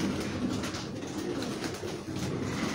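Pigeons at a pigeon fancier's loft coo in soft repeated low calls, several birds overlapping against steady background noise, with no talking.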